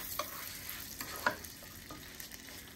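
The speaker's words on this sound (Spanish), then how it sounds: "Le voy a poner un poquito de aceite, nada más como una cucharadita, para que se ayude a freír un poco." Rice frying in a pan with butter and a spoonful of oil, a steady low crackle with occasional stirring scrapes and small clicks, fairly quiet and close, with no voices.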